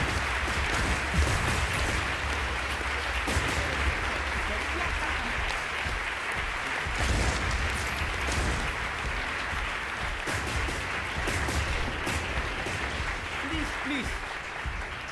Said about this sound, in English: don't applaud so much, spare your energy.